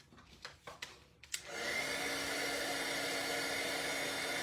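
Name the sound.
heat embossing tool melting embossing powder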